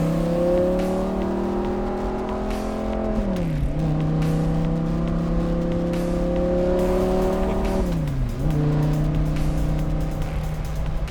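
A 2011 Audi R8 with a custom manual gearbox revs loudly nearby, the engine climbing steadily in pitch, dropping sharply, then climbing again in a second long rev, continuous and dominant with no talk.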